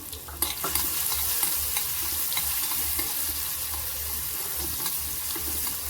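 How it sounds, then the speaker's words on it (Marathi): A vegetable frying with asafoetida in a pan sizzles steadily and close throughout, with occasional clicks and scrapes as it is stirred. "हिंग घालायचं आपल्याला आणि छान हे परतून घ्यायचंय"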